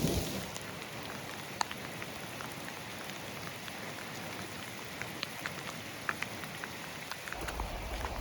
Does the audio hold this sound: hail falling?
yes